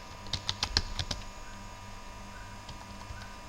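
Typing on a computer keyboard during an HTML coding lesson: a quick cluster of close, crisp key clicks, then a few sparse, fainter taps against a quiet room hum.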